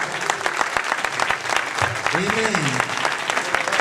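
A church congregation in Bridgeport, Connecticut applauds a pastor's consecration with dense, continuous clapping, while a voice speaks briefly in French over the crowd.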